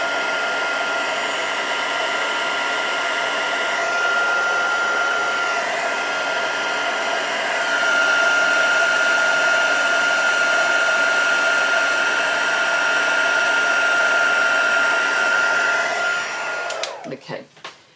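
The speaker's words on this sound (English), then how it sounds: "I'm going to just leave my heat tool to show you what happens if you overdo it" A heat embossing heat gun blows continuously at close range for about seventeen seconds. Its steady, loud whirring hum has a high whine, then cuts off abruptly at the end.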